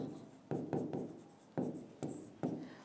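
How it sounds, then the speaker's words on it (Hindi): A word being written on a board in a classroom: sharp taps and quick strokes, about six of them in an uneven rhythm, heard close and alone with no talk. "एक शब्द लिखते हैं दिवाकर"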